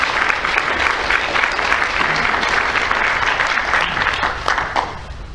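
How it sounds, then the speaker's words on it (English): An audience at a meeting breaks into loud, sustained applause that fills the room for several seconds and eases off slightly at the end. "So would you give them a round of applause?"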